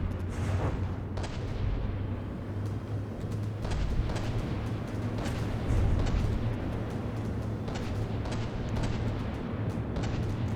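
Main guns on a super heavy dreadnought in From the Depths firing repeatedly, a steady run of booming shots spaced roughly every second, layered over a constant low engine drone with no talk.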